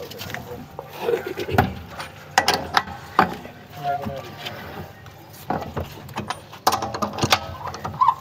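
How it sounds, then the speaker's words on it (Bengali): A wrench ratchets as a car's wheel nuts are tightened, giving a series of clicking, metallic bursts at uneven intervals, close by, in between stretches of speech. "দেখেন এই যে টাইট দিই, হালকা একটু টাইট দেবো"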